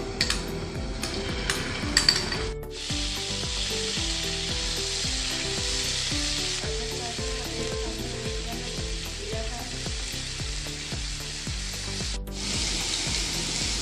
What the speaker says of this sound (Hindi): अब हमने लहसुन अदरक का पेस्ट तवे पे डाल देना है।